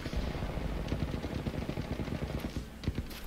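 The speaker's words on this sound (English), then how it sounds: "I hear guns." Gunfire in the Apex Legends video game rattles in rapid, dense bursts of automatic shots, loud and continuous for a few seconds with no talking.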